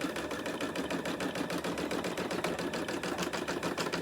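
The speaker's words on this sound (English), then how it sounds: "if I hit start, it's going to start to sew a circle" An embroidery sewing machine stitching a circle on a hooped embroidery block runs at a fast, even, rapid needle clatter, close and continuous throughout with no pauses or voices.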